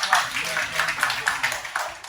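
A classroom of people clapping for themselves, a short burst of brisk, fairly loud, uneven applause filling the room.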